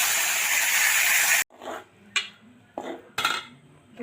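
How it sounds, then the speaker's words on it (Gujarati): A spoon stirs a tempering of mustard seeds, cumin and asafoetida in oil in a pan: a loud, steady hiss first, then sudden metallic scrapes and clinks against the pan, close up, with no voices. "વઘાર કરી લઈશું"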